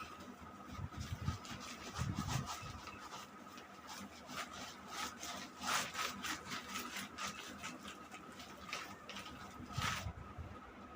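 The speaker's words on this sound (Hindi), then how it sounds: "इसको रब कर देते हैं।" Writing being erased from a board during a class 10 math lesson, repeated rubbing strokes in quick rhythmic bursts, fairly faint and close, with no talking.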